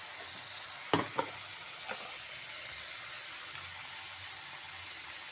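Rice with turmeric lightly frying in a pan for Basanti pulao, a soft steady sizzle with a couple of spoon knocks near the start, quiet and without speech.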